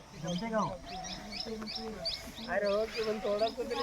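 Birds chirp and call repeatedly in the open air of a hilly village during rice harvest, with high tweets scattered throughout while people talk nearby over a steady background.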